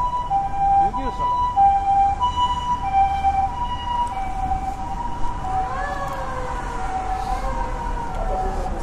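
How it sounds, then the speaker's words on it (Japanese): An ambulance siren wails steadily in the distance, its rising and falling tones continuing through the whole stretch over a low traffic rumble. "救急車"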